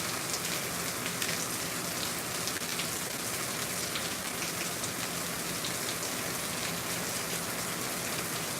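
Steady rain pours down onto surfaces in a dense, unbroken patter, loud and close throughout, with no voices over it.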